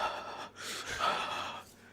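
A voice mimics The Rock's heavy breathing in a short, close exhale-and-inhale pattern, breathy and exaggerated, heard alone.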